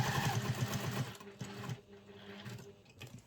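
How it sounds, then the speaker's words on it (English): Sewing machine basting a long stitch along the edge of a satchel, a close rapid mechanical chatter in short runs with pauses, the speed turned down. "So for basting, I do a long stitch just as close to the edge as you can."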